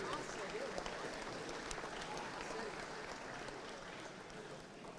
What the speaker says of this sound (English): Fans, how about a nice round of applause for all of our Players of the Year.